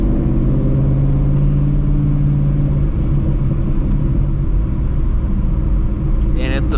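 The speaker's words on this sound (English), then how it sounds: "I'm hearing the blower." Supercharged Shelby GT350 idling with its hood open, a steady low mechanical drone and rumble from the engine and supercharger blower, close and continuous with no clear rev changes.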